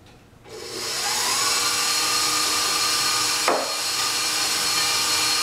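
An electric kitchen mixer whirs steadily as it beats egg yolks into a batter, starting up after a brief quiet moment and running loud and continuous, with a short scraping knock partway through.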